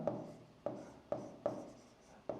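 Marker or chalk writing on a board during a Bengali trigonometry lesson, five distinct scratchy strokes spaced about half a second apart, close and fairly quiet, with no talk over them.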